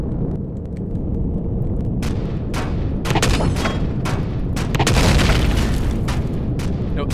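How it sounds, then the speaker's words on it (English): Gunfire and explosive booms in the sci-fi video game Empyrion, dense rapid bursts of shots layered over a constant rumbling background, loud and continuous through the clip. "No, stop shooting! There's no turret, so stop shooting!"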